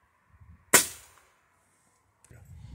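A single sharp crack of a Gamo Whisper Fusion Mach 1 .22 air rifle fired at 60 yards, loud and close, with a quick decaying tail, then quiet before faint rustling and low voices resume.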